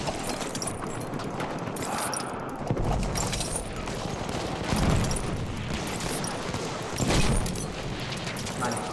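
Enemy machine gun fire in the Battlefield 1 video game comes as a few rattling, rumbling bursts amid broadband battle noise, while someone talks excitedly over it.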